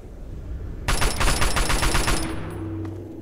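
Rapid automatic assault rifle fire in Fallout 3, a loud, dense burst of close shots lasting about a second and a half, then trailing off into low ambient hum.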